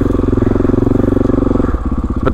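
Enduro motorcycle engine on a cliff-edge trail, close and loud, a steady low pulsing throb held under throttle with a brief dip and clatter near the end as revs shift.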